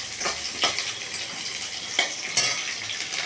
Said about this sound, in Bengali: আদা আর কাঁচা লঙ্কা দিলাম।